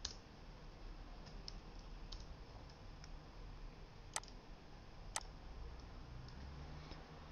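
Mouse clicks at a computer running AutoCAD while drawing chamfers, mostly faint ticks with two sharper, louder clicks about a second apart, over a low steady room hum.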